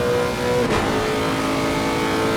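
Porsche race car engines roar in a racing video game at Monza, a loud steady high-revving drone with a brief whoosh as one car sits close in another's slipstream, no talk.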